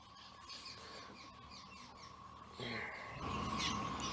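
Several birds chirp and call over a steady outdoor background, with a low rumble growing louder toward the end.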